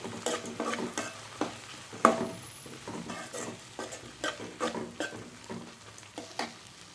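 Chana dal chutney ingredients with grated coconut sauté in a pan, close and continuous: repeated scraping strokes of a spoon over a low sizzling hiss, with a sharper knock about two seconds in.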